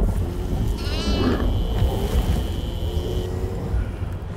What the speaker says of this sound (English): Guys, found a goat.